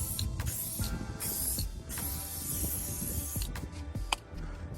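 A close, hissing aerosol spray comes in long bursts onto a 2018 Suzuki GSX-R1000 motorcycle, mixed with clicks and mechanical rattling, and there is no talking.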